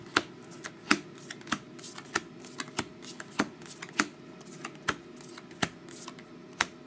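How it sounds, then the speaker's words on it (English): Playing cards are dealt one at a time during a football trading card box break, a steady run of crisp, close snaps and flicks heard alone and fairly quietly. "And the deal, everybody gets three cards."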